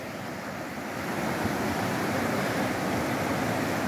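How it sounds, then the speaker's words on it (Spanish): River water flowing, a continuous broad rushing wash that swells slightly after the first second and then holds steady, with no voices. "¿Qué paz se siente en este río?"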